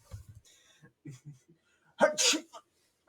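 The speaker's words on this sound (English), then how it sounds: "I sneezed in the mask." A single abrupt sneeze into a face mask bursts out close to the ear, preceded by soft breathy whispers and small scattered taps in a quiet setting.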